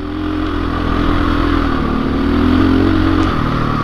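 A 2021 KTM 500 EXC-F dirt bike engine with an uncorked exhaust revs close and loud, a throaty, rising-and-falling single-cylinder drone that continues without a break.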